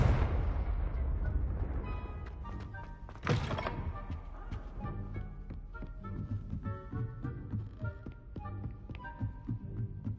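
A fire-blast spell in the video game Hogwarts Legacy goes off as a deep, booming thunk, followed by a sharp burst and a scatter of crackling impacts and chiming effect tones under game music.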